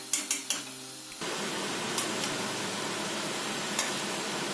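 A few sharp clinks of a utensil against a pan, then a steady loud sizzle of dough frying in olive oil fills the rest, with occasional faint scrapes.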